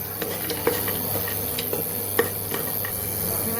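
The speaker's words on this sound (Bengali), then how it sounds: "তেলটা গরম হয়ে গেছে, একটু বাদাম একটু কিশমিশ ভেজে নেব।" Peanuts and raisins frying in hot refined oil in a home kitchen pan, a steady soft sizzle and hiss with occasional light clinks of a stirring utensil.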